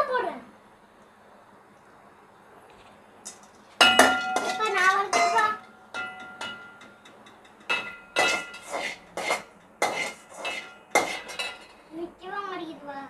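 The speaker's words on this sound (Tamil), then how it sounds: "முந்திரி அவள் தான் வறுப்புன்னு வறுத்துட்டு இருக்கிறா" Cashews being roasted in a pan for sweet pongal, with metal spoon scrapes and clinks against the pan in repeated bursts, close by, between quieter stretches and a voice near the end.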